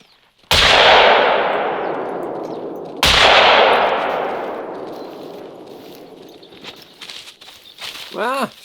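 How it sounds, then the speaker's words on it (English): Two loud, sharp shotgun blasts about three seconds apart in the hunting game The Hunter: Call of the Wild, each with a long decaying rumble, followed by soft clicks and a brief animal call. "we need the shotgun for this one."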